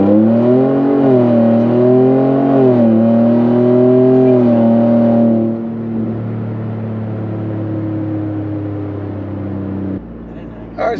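Ford F-150 pickup held at steady revs on a torque brake, then launching hard: a loud, droning engine note gives way after about five seconds to a rougher, steady roar of engine and road noise, ending in a brief thump.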